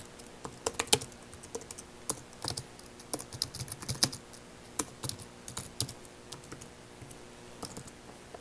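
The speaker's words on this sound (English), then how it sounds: "So let's get a little more ambitious and type in a full address." Irregular clicks of a computer keyboard as a full street address is typed, close and fairly soft, with sharp individual keystrokes and short pauses spread across several seconds and no speech.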